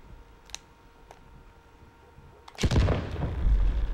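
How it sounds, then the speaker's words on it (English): Faint clicks and distant pops give way to a sudden loud, rumbling blast that keeps booming and crackling through the rest of the clip, video game explosions in The Last of Us Part 1. "Whoa, explosions."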